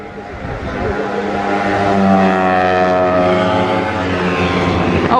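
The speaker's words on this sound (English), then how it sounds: "I can hear a very noisy 2-stroke bike." A loud, buzzing two-stroke scooter engine drones steadily nearby, its harmonic whine rising slightly as it passes by without pause, leaving a car meet.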